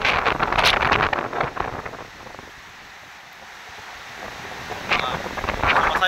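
Strong typhoon Uwan wind on Burias Island buffets the microphone in loud gusts, easing to a quieter lull midway before rising again, with a voice talking over it.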